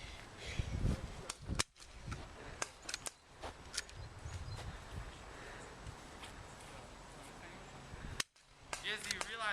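Airsoft guns fire during an outdoor airsoft game as a scattered series of sharp snapping shots, some close and some farther off, over a low rustling background.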